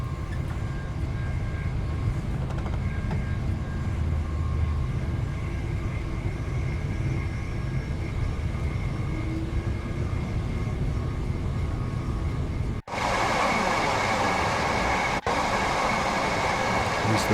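Gatwick Express train running in Train Sim World 3, a steady rumbling roll with a faint tonal whine; it drops out abruptly partway, then resumes with a brighter, louder rushing sound and a brief click later.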